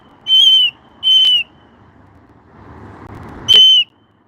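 A Moluccan cockatoo lets out three loud, piercing whistle-like shrieks, two close together and one after a pause, with a soft rumble of passing traffic between them.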